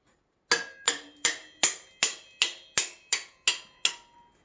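Ten sharp metallic hammer taps on a bicycle headset cup at a steady, even pace, each ringing briefly before the next strike, close and loud.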